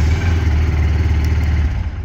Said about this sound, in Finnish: Ja mönkiä lähtee käyntiin.